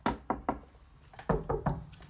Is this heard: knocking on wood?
yes